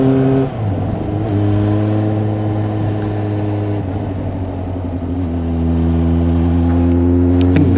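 A motorcycle engine runs close by, blipping the throttle with the clutch in, holding a loud rumbling idle between rising revs and a final climb in pitch.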